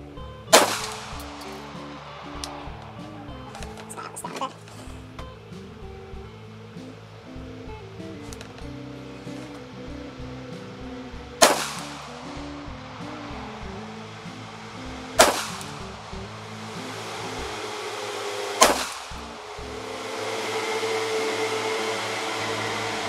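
A Kalashnikov USA KP104 in a Sureshot MK3 chassis fires Tela ammunition at a target, giving four loud, sharp reports at uneven intervals over a steady rushing background.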